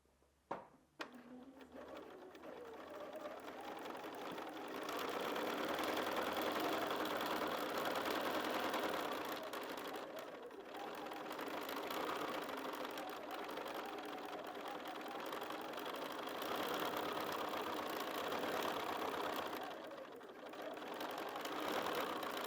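Sewing machine doing free motion quilting with a BSR stitch regulator, running in a continuous fast mechanical hum with slight speed swells and brief dips, close and steady after a couple of clicks at the start.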